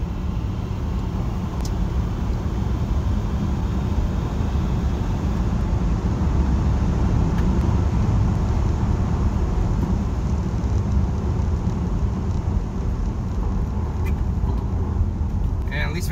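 Steady broadband road and motor rumble as a Tesla Model 3 electric car accelerates hard from 0 to 63 mph, continuous and fairly loud throughout with a sustained low-end roar and no voices.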